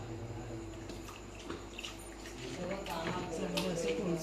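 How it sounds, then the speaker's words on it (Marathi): Water splashes and gurgles as it is poured into a cooking pot holding kokum for a fish recipe, a continuous pour that swells toward the end. "नाही थोडं पाणी टाकते आधी."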